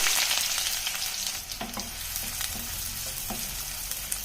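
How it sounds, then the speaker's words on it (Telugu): Onions fry in hot oil with a dense, close sizzle that stays steady throughout, broken by a few soft stirring knocks in the second half. "ఆనియన్స్ కొంచెం కలర్ మారేంత వరకు ఫ్రై చేసుకోవాలండి"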